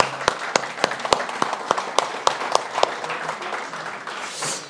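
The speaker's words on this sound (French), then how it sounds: "On va vous applaudir évidemment." An audience applauds at the close of an evening event on exporting, with crisp individual claps standing out at an irregular rhythm over a softer bed of clapping.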